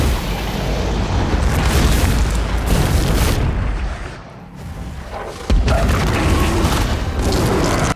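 A massive, rumbling explosion roars loudly, dips briefly, then a second heavy blast erupts and keeps booming.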